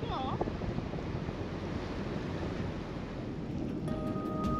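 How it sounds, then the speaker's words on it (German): Strong wind buffets the microphone with a steady roar over churning water on a boat in November, a few brief voices and chirps breaking through near the end. "Ja, es ist etwas sehr windig."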